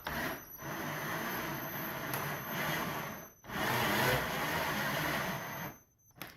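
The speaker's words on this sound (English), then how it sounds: "Using a drill and the hex bit, I'm going to cycle the sunroof" A cordless drill with a hex bit drives the sunroof mechanism of a BMW E39 bench-side, a steady whirring motor run broken by brief pauses between passes, close and moderately loud with no talk.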